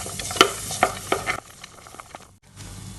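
Onions stirred and frying in a pan with cashews and ginger garlic paste for butter chicken, with several close scrapes of a spoon over a soft, steady sizzle.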